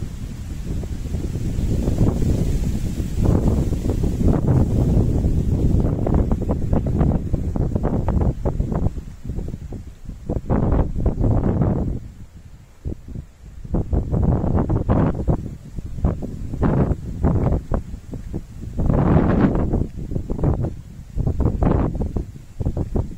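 Strong, cold wind buffets the microphone outdoors in heavy roaring gusts, dropping briefly between blasts, loud and close throughout with no talking.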